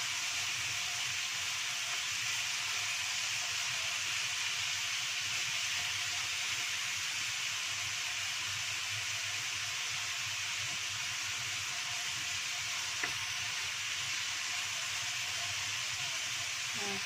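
Chili and shallots frying in a pan, a steady, even hiss of sizzling oil that carries on without a break, with one faint click near the end.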